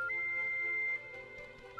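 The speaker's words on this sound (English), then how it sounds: "That's how we call our pet, with a little whistle." A short two-note whistle summons a collie pet in the blocky fantasy game Cube World, sounding bright and clear at the start and again at the end over a steady layer of game music.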